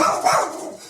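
A pet dog barks in a short, excited burst close by inside a home after the doorbell rings, a single yelping outburst lasting about a second.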